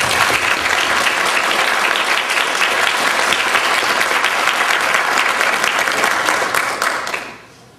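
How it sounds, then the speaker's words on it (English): A loud, dense round of applause from the crowd at an FFA chapter banquet, a sustained sheet of clapping for about seven seconds that fades out quickly at the end. "Let's give her a big round of applause."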